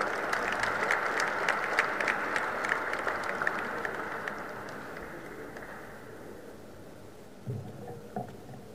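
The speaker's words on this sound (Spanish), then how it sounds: "Recibámoslo con un fuerte aplauso, por favor." An audience claps to welcome a speaker at a formal event, with sharp individual claps over a dense wash of applause that gradually fades to quiet.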